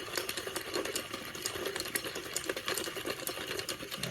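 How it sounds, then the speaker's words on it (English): Fishing line winding onto a reel spool through a homemade DIY line spooler, a steady whirring, buzzing mechanical hum that runs continuously at close range with no talking. "you are reeling it almost directly onto the spool"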